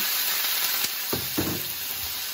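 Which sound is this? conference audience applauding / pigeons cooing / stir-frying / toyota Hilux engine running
stir-frying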